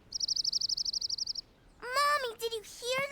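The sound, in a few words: bird chirping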